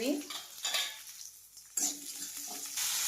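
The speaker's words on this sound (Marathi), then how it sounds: "1 चम्मच तेल ऍड करत आहे आणि अर्धा कांदा याच्यामध्ये फ्राय करणार आहे" Half an onion fries in a spoonful of oil in a kadhai, giving a quiet intermittent sizzle with stirring scrapes and a brief near-silent pause in the middle.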